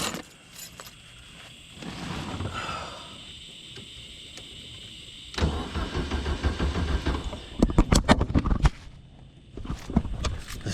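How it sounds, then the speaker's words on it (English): Starter cranking the air-cooled engine of a 1970 Volkswagen Beetle convertible in a few short bursts of rapid mechanical churning, with quieter clunks and handling noises in between. "The starter's working, y'all."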